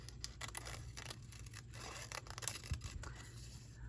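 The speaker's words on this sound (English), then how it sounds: "Switch back to the big scissors again." Large scissors snipping through paper while a journal page is cut, with a steady run of close, soft crisp cuts and a slightly sharper snip near the end, all at low volume.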